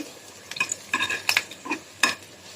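Garlic frying in mustard oil for a bean mash, heard as a series of sharp stirring scrapes and spoon clinks over a faint, close sizzle, with no talking.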